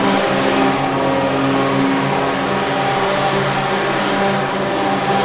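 Race cars of the Kinetic by Windstream Championship roar past on the track, a loud, steady engine drone with rising revs that stays close and continuous throughout, with no talk over it.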